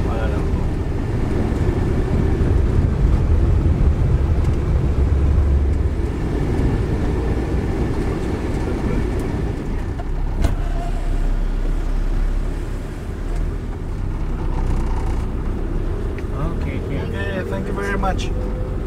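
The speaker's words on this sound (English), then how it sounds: "we just got a taxi in the middle of the road, it'll take us to the bus terminal" Taxi driving through Kuala Lumpur traffic toward the bus terminal, with a steady loud engine and road rumble heard from inside the cab, wind buffeting the microphone and traffic noise around, with occasional talk.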